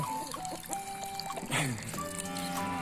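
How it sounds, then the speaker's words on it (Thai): Water from a bucket is poured close by into a basin for chickens, trickling and splashing with a ringing tone that shifts as it fills, then a brief gurgle before pouring resumes. "น้องเมยเทน้ำให้ไก่หน่อยนี่"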